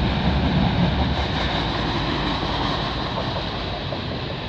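Train 570 rolls past a trackside spot in Milton, Ontario, a loud, steady broadband rumble and roar that holds throughout and eases slightly toward the end, with no voices.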